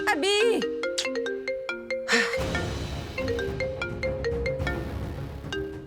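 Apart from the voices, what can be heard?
mobile phone ringtone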